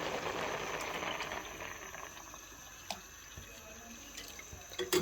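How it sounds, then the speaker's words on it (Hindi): Three kilograms of milk poured into a cooking pot of rice and grated carrots for gajar ka gajrela, a soft steady liquid pour with light splashing that fades toward the end, with a few faint clinks. "ये 3 kg दूध है, तो ये मैं इसमें अब डालूँगी।"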